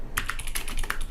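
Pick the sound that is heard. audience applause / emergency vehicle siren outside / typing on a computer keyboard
typing on a computer keyboard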